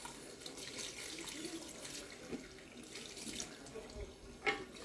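Tap water runs steadily into a hair-washing sink at a colorist's salon, a continuous broadband splashing hiss with a few louder splashes near the end, close by and mostly alone.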